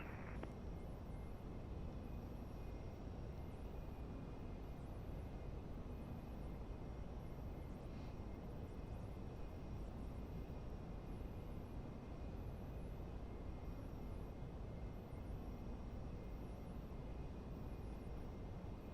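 Jet engine drone inside the cockpit of an Xtreme Prototypes GLJ 25 business jet in the Prepar3D flight simulator, a constant dense roar with faint high tonal whine, no breaks.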